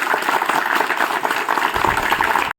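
Hall audience applauding the teachers at a school assembly, a dense burst of many hands clapping loudly and evenly, which breaks off abruptly at the end.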